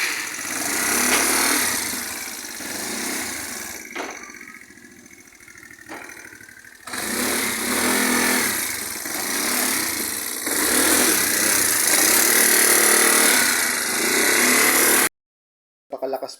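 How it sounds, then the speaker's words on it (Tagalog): SYM Radar 125 project motorcycle engine running close by with a steady buzzing drone, which dips briefly, returns loud and strong, then cuts out abruptly before restarting at the very end. "Pakalakas po ng takbo ng motor na ito."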